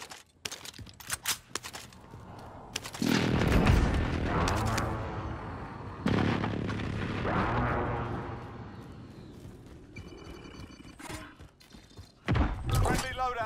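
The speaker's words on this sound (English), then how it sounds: "Be advised, friendly precision airstrike inbound." Call of Duty: Modern Warfare airstrike and firefight: heavy booms and thuds roll in repeated waves, with sharp gunfire bursts and game voice callouts in between.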